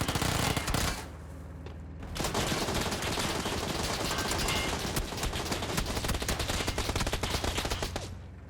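Rapid bursts of automatic gunfire in PUBG strike a BRDM armored vehicle, loud sharp cracks in quick succession after a brief lull, continuing steadily with no speech.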